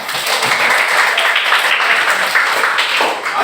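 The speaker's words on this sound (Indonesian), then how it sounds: "Aplaus untuk kita semua." Classroom applause from a group of students fills the room with dense, continuous clapping that stays loud and even for several seconds, close by.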